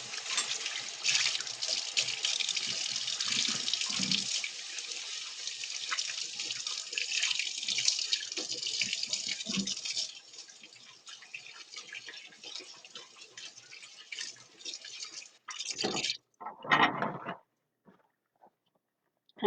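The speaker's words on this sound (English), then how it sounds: "Okay, so I'm just gonna wash my hands." A kitchen tap runs while someone washes their hands, a loud, close, steady rush of water with splashing that lasts about fifteen seconds and then cuts off with a few final splashes and drips.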